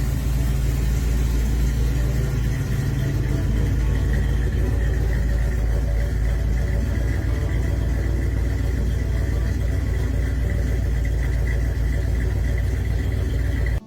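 Steady low rumble of a 1948 Willys Jeep rock crawler's 350 throttle-body V8 idling close by, a continuous heavy engine drone with slight unevenness throughout and no talking.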